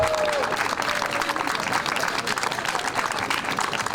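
Audience applause fills a bus driver competition award ceremony in Tallinn, a steady, dense clapping from a sizeable crowd that carries on evenly throughout without a break.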